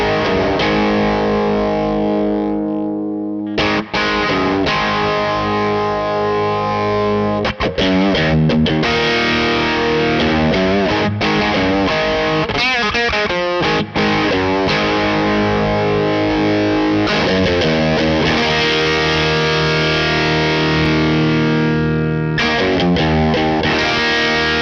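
An electric guitar through a Kernom Ridge overdrive pedal set for ragged, gritty gain, playing loud sustained chords and riffs with a few brief pauses, the tone thick and crunchy.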